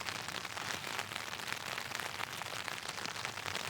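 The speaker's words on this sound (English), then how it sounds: "They say you can sleep to the sound of rain falling on top of the top." Steady rain patters on a tarp strung over a hammock at a camp, a dense, even hiss of drops with no pauses and no voices.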